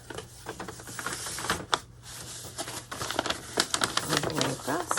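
Paper is creased and folded into a protective textbook cover, making a run of crisp, irregular creasing and crinkling clicks up close. Faint background noise sits beneath the handling sounds.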